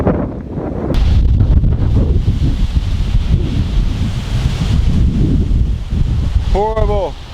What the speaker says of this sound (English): I'm making this video today because it is so windy.